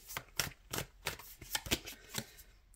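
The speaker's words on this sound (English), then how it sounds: "just gonna give this a quick shuffle" A deck of tarot cards is shuffled by hand at close range, a quick run of crisp riffling and slapping bursts in an uneven rhythm with no talking.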